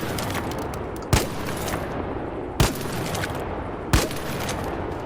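Three evenly spaced gunshots from a weapon in the video game ARC Raiders at a training ground, each a sharp loud crack about one and a half seconds apart over steady background noise.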